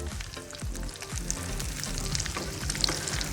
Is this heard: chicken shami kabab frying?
yes